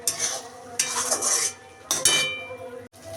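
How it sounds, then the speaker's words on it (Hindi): Masala is roasted and stirred in a pan for a jackfruit and potato curry, heard as bursts of scraping and clinking from a spatula against metal between softer sizzling gaps. "अब इसे अच्छे से मिक्स करते हुए भून लेंगे।"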